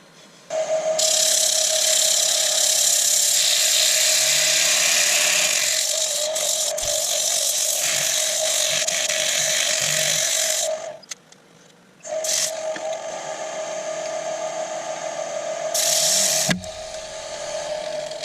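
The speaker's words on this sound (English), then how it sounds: "do a tad more sanding." A power sander whines steadily against a wooden fruit bowl, with a short pause near the end before it starts up again and keeps running.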